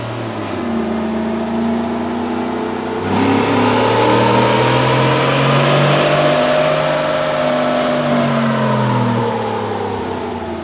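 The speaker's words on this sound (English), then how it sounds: "let's do another dyno run to see what we got." A Ford Raptor's 6.2L engine revving hard on a dynamometer with a BBK performance upgrade, a loud sustained roar whose pitch climbs through the run and then winds back down, with no talk over it.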